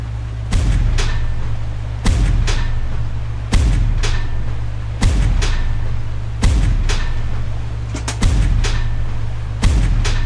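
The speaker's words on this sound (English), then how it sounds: "Just going to start mortaring the next one." Mortar rounds fire in a Pacific naval game, about eight sharp booming launches spaced at a slow, regular beat, each trailing off over a steady low engine rumble.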